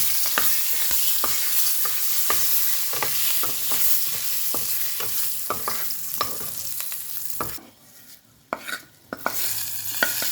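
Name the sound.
curry leaves sizzling in hot oil for tempering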